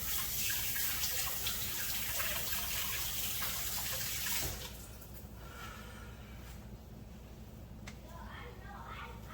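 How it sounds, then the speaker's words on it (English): A kitchen tap runs steadily while hands are washed beneath it, a close, continuous rush of water that drops to a softer stream partway through, with faint clinks and a person talking. "Let me wash my hands first."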